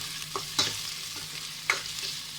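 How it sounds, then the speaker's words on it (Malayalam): Onions frying in ghee for a Kerala beef stew give a steady, soft hiss, broken by a couple of sharp spatula scrapes against the pan, with no voices. "സവാളയുടെയൊക്കെ ആ നനവ്, അതാണ് പെട്ടെന്നുള്ള ശബ്ദം."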